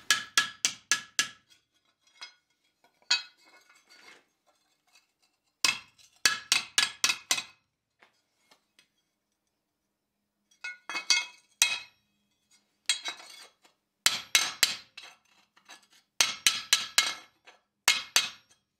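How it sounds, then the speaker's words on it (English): A steel fireplace shovel pan is cold-worked on an anvil, with sharp, ringing hammer blows landing in quick bursts of several strikes separated by pauses. "I'll just do a little bit of cold work on the anvil to flatten out a couple little wrinkles on the edge."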